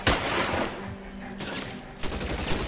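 Gunfire in the video game L.A. Noire, several loud bursts of shots close by with a short lull in between, game sound heard alone without talk.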